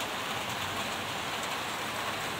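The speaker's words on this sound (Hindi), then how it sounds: "बहुत अच्छी बारिश हो रही है" Heavy rain pours down steadily outdoors, a dense, even hiss of drops with no letup and no voices, heard at moderate distance.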